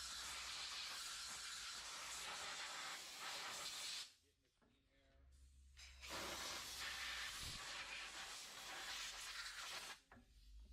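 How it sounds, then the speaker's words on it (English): An air compressor drives a hard, hissing blast through an air chuck while blowing out the cracks of a wheel and wheel arch during detailing, in two long bursts separated by a short quieter pause. "I'm going to use the air chuck and the air compressor to blow out any cracks and crevices."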